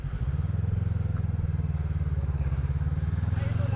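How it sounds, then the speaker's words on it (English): A Voge 500DS (Loncin DS7) 500cc adventure motorcycle idling nearby, a steady deep bass-heavy engine throb with even rapid pulsing, continuous and alone. "I like the sound of this bike"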